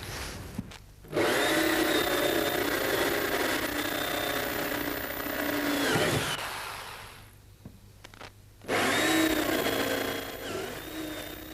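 Flat-ended drill bit boring out spot welds in a car body panel, a loud close whine in two long runs separated by a short quiet pause, with a brief lull in the middle.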